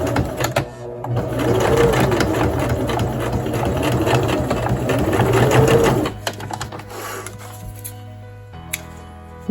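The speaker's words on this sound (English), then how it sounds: "Then I go and I sew 1/4 inch seam here." A sewing machine stitching a quarter-inch seam on an apron runs in a loud, steady, close whir for about six seconds, then stops, leaving a quieter hum and a faint click.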